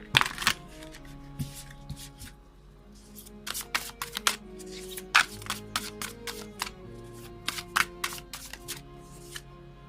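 Tarot cards shuffled by hand in a series of quick papery riffles and slaps, bunched into bursts over about ten seconds, close and crisp above a faint steady tonal background.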